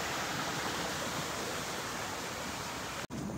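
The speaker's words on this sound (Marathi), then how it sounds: "बघा, खळखळणारं पाणी वाहत आहे" Water rushing and gurgling along a forest stream, a steady broadband flow filling the whole stretch, close and continuous, with a brief dropout near the end.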